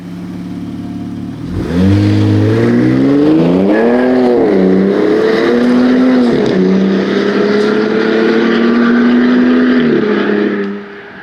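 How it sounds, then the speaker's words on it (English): Tire roar from Pirelli Scorpion XTM AT 295/70R18 all-terrain tires on a 2025 Ram 1500 Rebel with a Lone Peak camper, mixed with engine and exhaust tone rising and falling through gear changes; loud, close and continuous, fading at the end. "you could clearly hear the tire noise"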